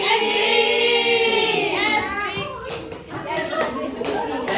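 Children clap their hands in a classroom ice-breaking game, with a burst of claps following a teacher's spoken instruction, then scattered group clapping and chatter in a lively room.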